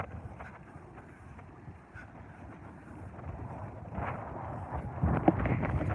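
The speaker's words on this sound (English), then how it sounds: "It's been a bit windy." Gusty wind buffets the microphone in a low rumbling roar that grows stronger toward the end, with faint outdoor sounds beneath.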